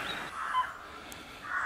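Crows caw outdoors near an old paper mill site in Watchet, a couple of harsh calls at moderate distance over quiet background.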